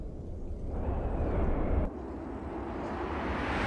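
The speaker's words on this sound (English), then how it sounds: "So again, pretty big frickin' explosion" In the DCS MiG-21 Bis flight simulator game, a ground bomb explosion erupts as a heavy low rumble under the cockpit engine drone, then breaks off sharply, leaving a quieter steady hum.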